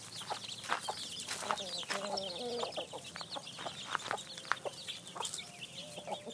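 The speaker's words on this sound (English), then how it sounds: "The chicken's all fed." Farm chickens clucking and murmuring while eating rice, a busy cluster of close, overlapping clucks and short calls with soft pecking and shuffling underneath.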